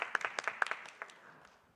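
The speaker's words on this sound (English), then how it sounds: "Give a big applause for Dr. Tyson." A few scattered hand claps from a small conference audience, quiet and uneven, thin out and fade within about a second and a half.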